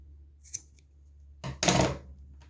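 Scissors cut through paracord: a light snip, then after a pause a louder, longer crunching cut, close and alone.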